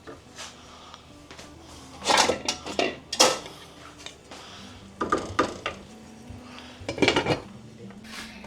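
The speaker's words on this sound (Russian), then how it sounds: "Время от времени помешиваем." Metal utensils clink and scrape against a pot of bolognese sauce in several bursts of clatter, with quieter gaps between, close by and with no talking.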